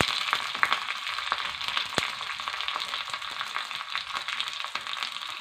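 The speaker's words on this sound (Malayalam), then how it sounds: "അത് കഴിഞ്ഞ് ഉള്ളിയും പച്ചമുളകും ഇട്ട് കൊടുക്കാം" Chopped onions and green chillies sautéing in a pan, a steady close sizzle with occasional scraping stirs and a few sharp clicks against the pan.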